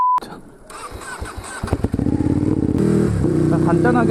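A Ducati motorcycle engine cranks and catches, then revs up into a loud, rising roar at close range, other bikes and voices faintly audible among a group of riders.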